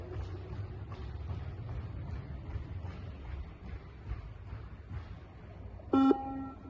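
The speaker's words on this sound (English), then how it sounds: "As the levels increase, the beep becomes more frequent and therefore asks the participants to run faster and faster" A single electronic beep from a fitness beep test sounds near the end, loud and brief, after several seconds of low background rumble.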